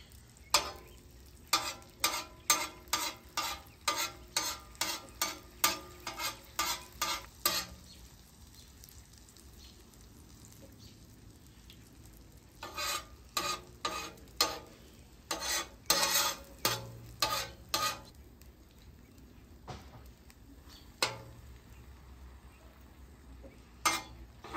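Eggs frying in a pan, a soft background sizzle under bursts of rapid rhythmic clicking and scraping of a utensil against the pan, close by, with quieter pauses between bursts.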